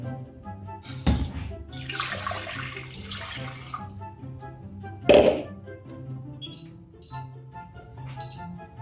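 Water poured into a pot holding fish in a home kitchen, a splashing gush running for a couple of seconds between clunks of the pot, with a faint background hum.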